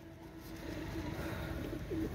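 Soft, low cooing of pigeons kept in a loft, a few murmuring calls over steady faint background hum.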